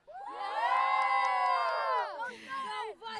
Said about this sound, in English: Let's hear a cheer for your team.